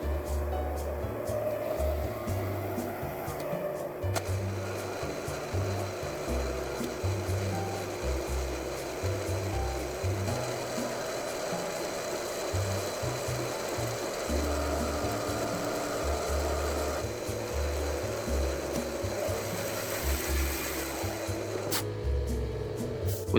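A mini lathe faces and turns the outer diameter of a workpiece, giving a continuous, close machine whir and grinding hum with a pulsing low rumble, steady throughout and with no voice.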